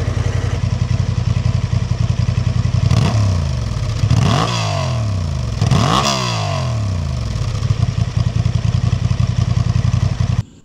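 A Honda Transalp 750 motorcycle with a liquid-cooled 750cc four-stroke twin-cylinder engine idles loud and close with a steady rumble, then revs up sharply three times before settling back to idle and cutting off.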